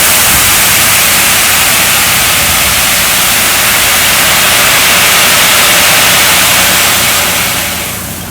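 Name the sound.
stones pouring from a delivery truck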